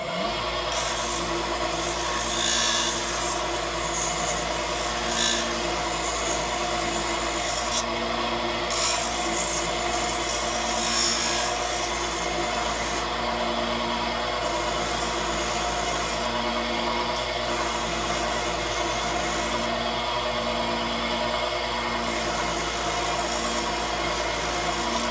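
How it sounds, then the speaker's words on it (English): Continuous abrasive rubbing of wood against a spinning drum sander on a lathe, a steady rasping hiss with a faint motor hum underneath, lasting throughout without talk. "He's got these drum sanding things, and he's going to stay right there in front of the lathe."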